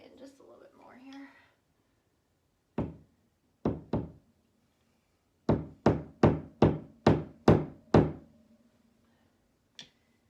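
A screw fitting being knocked into a wooden art panel: one sharp knock, then a pair, then a rapid run of seven evenly spaced hard raps and a last lone tap, close and loud, with brief talk at the start.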